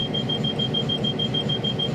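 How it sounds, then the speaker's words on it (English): A train's dead-man attention alarm sounds as a steady, piercing high-pitched electronic tone, continuous and loud over a low rumbling cab background for the whole stretch, with no voices. "If constant attention is not paid to the train, alarms sound and the train eventually shuts down."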